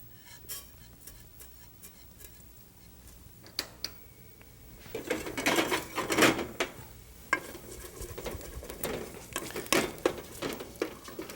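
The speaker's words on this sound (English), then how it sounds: "we're going to first of all fry up our cumin seeds" Cumin seeds frying in hot ghee in a pan give off quiet crackles and ticking pops, sparse at first, then denser and louder sizzling bursts from about five seconds on.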